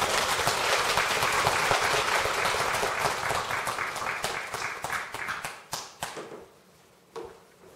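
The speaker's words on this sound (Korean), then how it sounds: "다시 한번 큰 박수로 맞이해주십니다" Large congregation at a Won Buddhist dharma assembly applauding to welcome a speaker, dense sustained clapping that tapers off into a few scattered last claps near the end.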